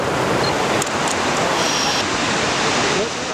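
Ocean waves crash and rush close by, a loud, continuous broadband roar with slight swells.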